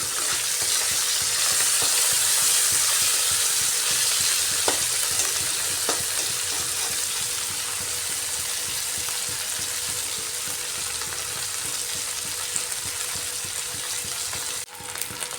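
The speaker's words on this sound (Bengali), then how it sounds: "মাছগুলো ভাজা হয়ে গেছে" Shrimp mixed with a few small fish frying in hot oil, a steady dense sizzle with stirring scrapes, loud and continuous throughout with no voices.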